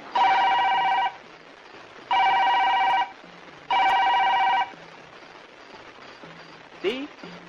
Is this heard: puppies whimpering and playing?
no